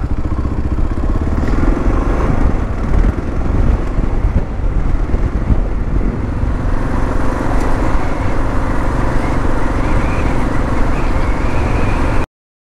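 A 2022 Kawasaki KLR650 single-cylinder motorcycle rides off across the Utah desert, engine droning steadily and rising through gears, heavy wind buffeting the microphone throughout, loud and close until it cuts off abruptly.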